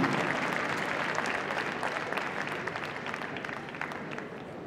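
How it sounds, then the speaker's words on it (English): Sustained audience applause fills an indoor arena after the Hound Group judging at Crufts 2009, a dense, steady wash of clapping that fades slightly toward the end, with no talk over it. "Can I ask you to do your round of applause"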